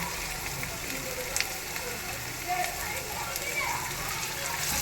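Tomato sautéing in a pan with onion and garlic gives a steady, close crackling sizzle with scattered soft clicks and spatters, a faint voice murmuring in the background.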